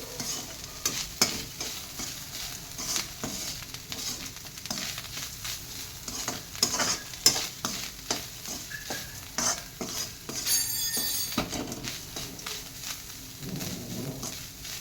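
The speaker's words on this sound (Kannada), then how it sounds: "ಉಪ್ಪನ್ನು ಹಾಕಿ 1 ನಿಮಿಷ ಹುರಿದು" Salt being fried in a pan while making coconut rice: dry scraping and stirring strokes against the pan with a soft sizzle underneath, irregular and close, with occasional louder clinks of the utensil and no voices.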